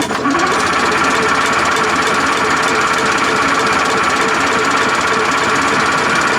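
A Nissan two-stroke supercharged diesel with its muffler removed cranks on the starter, giving a loud, dense, rapid mechanical clatter that holds steady for the whole stretch with no voices.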